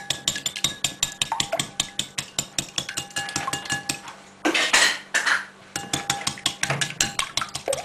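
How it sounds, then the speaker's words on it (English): Eggs with a little salt are whisked in a bowl, producing rapid rhythmic metallic clinks of the whisk against the bowl, close and clear, with a short pause of rougher noise midway and no talk. "And we just whisk that for a few minutes."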